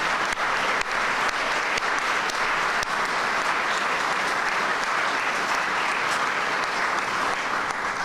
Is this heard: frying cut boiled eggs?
no